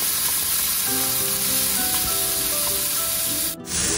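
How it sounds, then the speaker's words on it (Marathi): Tomatoes frying in oil on a flat pan for a drumstick vegetable curry give a loud, continuous sizzle that holds steady, with one brief dip near the end. "आता आपण थोडे टमाटर तळून घेऊया."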